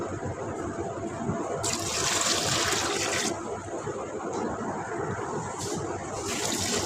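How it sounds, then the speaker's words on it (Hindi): Water gushing and splashing in two bursts, poured into a pressure cooker with beef for pulao, against a steady background noise. "बस हम पानी ऐड करेंगे।"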